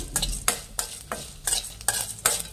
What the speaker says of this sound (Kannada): ಎಲ್ಲ ಲೋ ಫ್ಲೇಮಲ್ಲಿ ಹಾಕಿ ಫ್ರೈ ಮಾಡಬೇಕು.